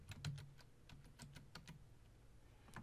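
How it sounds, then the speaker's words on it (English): Fingers tapping out a username on a computer keyboard, a quiet, close run of irregular clicky keystrokes spaced unevenly over about three seconds, with no voices. "we'll type in her username"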